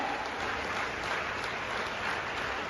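An audience applauding at a saints' gathering in Mumbai, a steady dense wash of clapping from a large crowd that holds evenly throughout without breaks.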